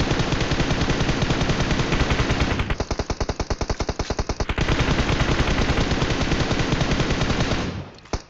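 Rapid automatic gunfire in the mobile battle royale game PUBG Mobile, loud sustained bursts with a distinct stretch of evenly spaced individual shots, fading out at the end.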